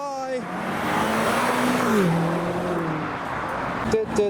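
A golden tuner car drifts sideways up the road at a car meet, its engine note sweeping through the revs under a wash of broad, hissing tire noise that swells loud and close before fading.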